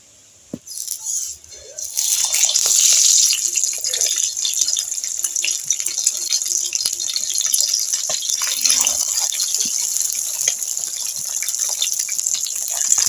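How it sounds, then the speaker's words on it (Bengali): Egg and masoor dal go into a hot frying pan: after a brief quiet moment and a clatter, a loud, close sizzle bursts in and keeps hissing steadily with scattered crackles. "এবার আমি ডিম আর মুসুর ডালটা ভেজে নেব"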